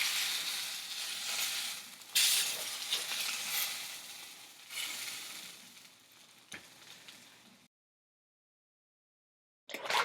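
A steak sizzles and fries in a hot pan, a steady bright crackle that rises and falls with a few louder spatters, then cuts to silence for a couple of seconds before the sizzle briefly returns.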